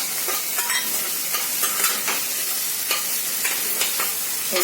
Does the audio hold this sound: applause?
no